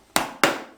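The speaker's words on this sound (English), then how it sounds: "ever such a slight angle with a very light hammer, a 4-ounce hammer" A light 4-ounce hammer strikes a nail into a wooden frame twice in quick succession, two sharp close knocks that each ring briefly and fade.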